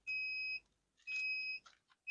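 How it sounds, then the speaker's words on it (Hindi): An egg incubator machine sounds its alarm after being switched on at the start button: steady electronic beeps, two long tones with a short break, then a third starting, clear and close with no talk. "ये अभी अलार्म बज रहा है"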